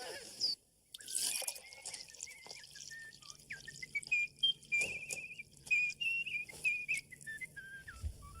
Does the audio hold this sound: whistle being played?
yes